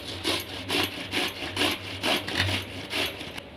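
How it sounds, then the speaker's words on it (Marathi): Cucumbers are grated by hand, giving a steady series of rhythmic rasping strokes, about two per second, close and fairly loud with no talk. "दोन काकड्या घेतलेत मी आपण किसून घेऊया"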